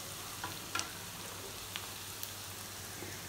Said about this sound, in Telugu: ఇప్పుడు మనం ఇందులో మునక్కాడలు వేసుకుందాం.